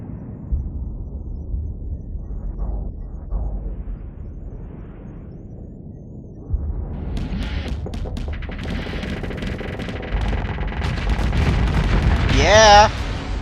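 Spaceship weapons fire in the Starsector video game: muffled booms and blasts, then denser bursts of shots and crackling impacts that build to a loud climax with a warbling tone near the end.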